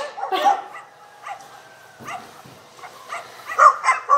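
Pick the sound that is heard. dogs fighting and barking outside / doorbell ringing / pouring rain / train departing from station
dogs fighting and barking outside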